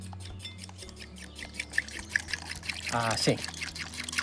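Milk poured into a bowl of beaten egg, a short gurgling pour that swells toward the end while someone speaks briefly over it.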